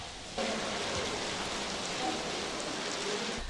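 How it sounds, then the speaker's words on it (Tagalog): Heavy, gusty monsoon rain over Taal Lake in Laurel, Batangas, driven by the southwest monsoon during a typhoon, pours as a dense, steady roar that starts abruptly and holds strong throughout, with no voices. "Halos zero visibility sa Taal Lake dahil sa malakas at pabugso-bugsong ulan dulot ng habagat na pinalakas ng bagyong Krising."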